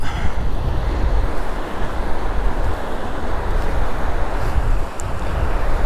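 A river at a park runs high after heavy rain, producing a loud continuous rushing roar with broadband wind buffeting the microphone, no speech.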